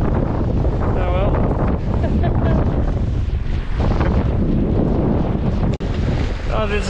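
Heavy wind roars across the microphone aboard a small Mini Transat racing sailboat sailing upwind with a reef in, gusts near 25 knots, water rushing and slapping the hull in a steady loud blast, a voice briefly heard through it.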